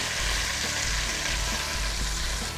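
A salmon fillet sears in a hot pan while its side browns, giving a loud, steady, dense sizzle that holds without a break from start to finish.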